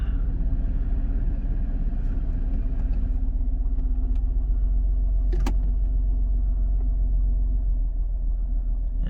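A 2002 Chrysler Town and Country engine idles just after starting, a steady low rumble throughout with a faint clink partway in and no talking.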